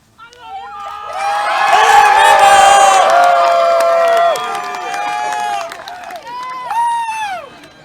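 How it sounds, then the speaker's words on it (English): A crowd of graduates at a high school commencement cheers loudly, with a sustained swell of overlapping shouts and whoops that eases off, then brief renewed yells at the end. "you're going to cheer loudly"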